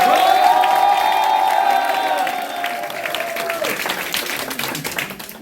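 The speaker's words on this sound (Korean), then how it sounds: "큰 박수 부탁드리겠습니다." Applause with some cheering and whoops breaks out from a crowd at a party committee launch and appointment ceremony, rising loud at first, then easing off, while a sustained electronic tone rings over it.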